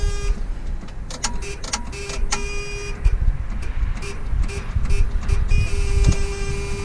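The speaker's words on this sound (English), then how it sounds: "So we gave the starter a couple taps. We're gonna try again here." A 1971 Pontiac Grand Prix 400 barn find with a 400 engine tries to start, and its starter gives a steady, strained whirring drone broken by irregular mechanical clicks and bursts. The engine does not catch.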